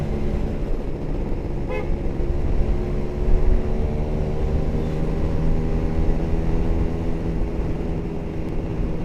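A Kawasaki Ninja two-stroke motorcycle on its stock exhaust drones steadily, a continuous, even engine hum held close with no voices.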